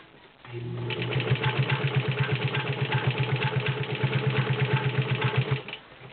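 Vigorelli Robot ZZ/A sewing machine driving a size 16 needle through five layers of denim, a steady rapid stitching chatter with a strong motor hum that starts up, runs evenly for about five seconds, then stops.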